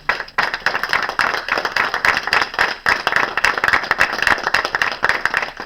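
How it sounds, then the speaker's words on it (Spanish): A church congregation claps loudly and rapidly in a dense burst of hand claps, close and energetic, with a few voices mixed in. "Aplaudan fuerte a Jesús esta mañana."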